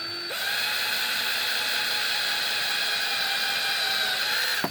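A small high-pitched drill whines steadily for several seconds without pause, boring a hole in a 1/64 diecast toy car, starting abruptly and stopping at the end, close up.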